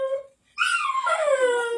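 A pet dog named Midnight whimpers and howls close by, wanting out of a room, a short whine then a sustained rising-and-falling howl-like whimper, loud and alone.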